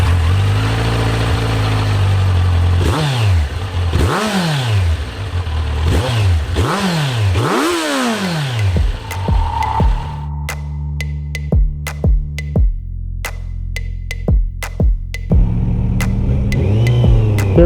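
Kawasaki Z900 948cc inline-four on a 2021 naked sport bike, revved in several rising and falling sweeps, then sharp individual blips over a low idle, loud and close.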